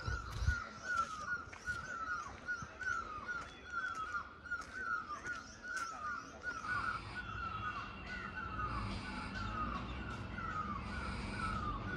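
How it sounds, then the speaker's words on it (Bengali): Crows caw repeatedly in a forest by a lake at dusk, a rhythmic chorus of calls at moderate distance over faint ambient rumble. "আর এখন এই বনের মধ্যে পাখিগুলো ডাকছে।"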